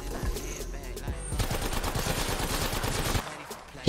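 Rapid automatic gunfire from a first-person shooter video game crackles in dense, continuous bursts for most of the stretch, loud and close, with brief quieter gaps at the start and end.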